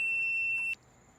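A non-contact voltage tester near a live outdoor light fixture gives a single steady, high-pitched electronic beep close by for under a second, then cuts off abruptly, leaving faint background hiss.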